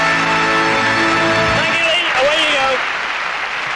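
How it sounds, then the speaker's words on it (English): An audience at a 1994 children's royal variety show applauds a performer, a dense sustained wash of clapping that runs throughout and fades slightly toward the end, with voices and musical tones mixed in. "Round of applause."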